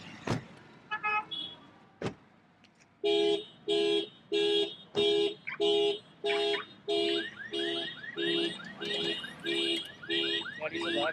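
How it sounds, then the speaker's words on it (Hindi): A 2021 Tata Safari's car alarm honks in a steady series of loud, evenly spaced blasts, with a fainter electronic chirping phone alarm underneath toward the end. "फ़ोन में भी अलार्म बज रहा है, कार भी हॉन्क कर रही है"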